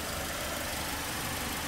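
A 2011 Mercedes-Benz C200 of the W204 generation idles steadily in a quiet, clean condition, with a low, even, continuous engine hum and no talking.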